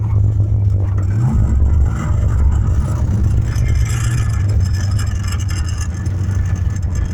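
A car with a three-speed transmission runs steadily up close, its engine holding a loud, continuous drone with a brief rise in pitch early on, with no talk over it.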